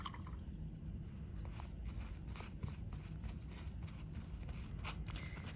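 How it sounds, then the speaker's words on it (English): Paintbrush swished and rinsed in a water cup during a kids' art session, soft faint trickles, drips and sloshing, quiet and close with no talk. "now I am just going to once again rinse my brush"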